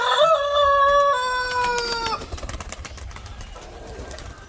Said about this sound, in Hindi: हम अपने इन कबूतरों को निकालते हैं।